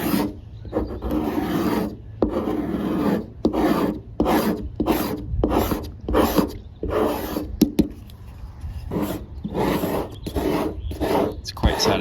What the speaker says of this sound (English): Plastic razor blade scraper.